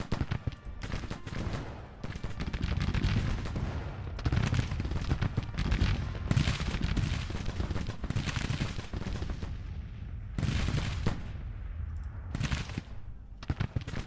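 Dense Civil War battle sounds from a strategy video game covering the 1863 fight for Tennessee: rolling musket volleys and booming artillery crackle continuously and loudly, with repeated bursts and brief lulls throughout.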